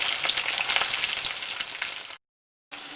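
Garlic fries in hot oil with small shallots and fenugreek seeds, a loud, dense, crackling sizzle that cuts out briefly before resuming, close up and without talk.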